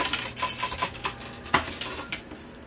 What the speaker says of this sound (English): this thing just started having a mind of its own and dropped the dice off and a couple of the other